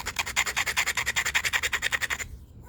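A sandstone hammerstone grinds a small isolated bevel on stone in rapid, even back-and-forth scrubbing strokes, about eight per second, close and steady, stopping abruptly near the end.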